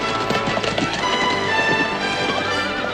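Horses gallop with a rapid, continuous patter of hoofbeats, close and fairly loud, with a busy dramatic background and no speech.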